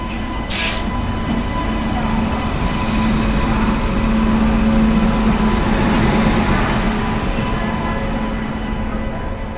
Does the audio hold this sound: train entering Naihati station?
yes